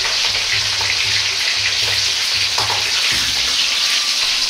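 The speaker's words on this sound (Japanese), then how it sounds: "だいたい140度から160度の油で30秒くらい揚げます。" Shrimp deep-frying in oil at 140 to 160 degrees, giving a loud, constant crackling sizzle with dense bubbling that stays up close and unbroken throughout, with no talking.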